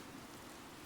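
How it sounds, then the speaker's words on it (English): Rain falls steadily in Fire Emblem Three Houses, a soft, even hiss of drops that runs without a break and stays faint and distant throughout. "Oddly, the rain has come to fall yet again."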